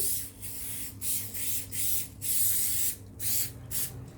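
An aerosol can of cooking oil sprays in a series of short hissing bursts, close up, with brief pauses between each spritz.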